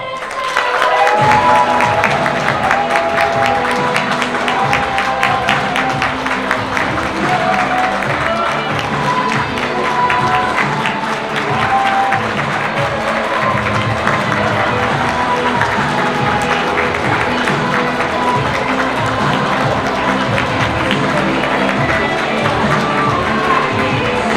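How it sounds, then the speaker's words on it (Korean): A wedding hall audience claps and cheers as the groom makes his entrance, a loud, sustained burst of dense applause with scattered whoops that carries on steadily for the whole stretch. "큰 박수와 환호로 이 순간을 함께 받아주시면 감사하겠습니다"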